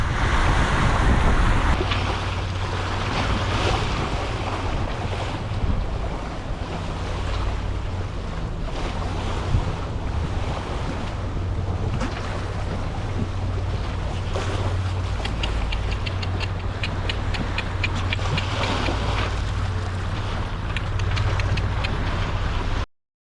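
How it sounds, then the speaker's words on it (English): A sailboat under sail on the open Pacific between Panama and the Galapagos, motor off, makes about 7.5 to 8 knots. Wind buffets loudly and waves rush and wash around the hull in a constant, close roar with no voices. "I've turned the motor off, and now it's pure sailing for the next 30 days."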